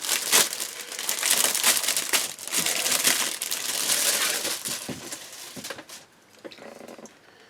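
Plastic resealable bags from a 1/35 Ryfield M4A3 76W Sherman model kit box rustle and crinkle continuously up close, loud and dense, with crackling bursts that ease off near the end.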